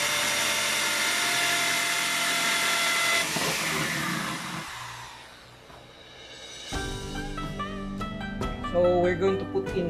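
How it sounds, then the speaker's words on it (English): A power drill bores a hole through a plastic container for a DIY pond filter outflow, whining steadily and loudly for several seconds before winding down, followed by clattering handling noises. "now we're going to drill a hole in this part of the container"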